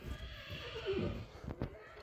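A horse neighs once, a clear rising whinny near the middle, with faint hoof clops and rustling before and a couple of sharp knocks near the end.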